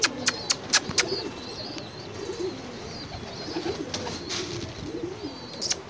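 A pigeon coos near a cage where grain has been scattered, soft repeated throaty coos rolling on steadily, close by, after a few sharp clicks at the start.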